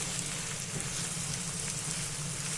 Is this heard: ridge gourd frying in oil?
yes